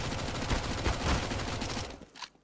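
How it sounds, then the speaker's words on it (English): AK rifle gunfire in the CS:GO video game, a dense, rapid burst of shots lasting about two seconds and then cutting off abruptly, heard loud and close without talk. "Simple gets an excellent shot with the AK to start it off"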